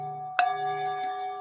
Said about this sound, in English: the tolling of the bell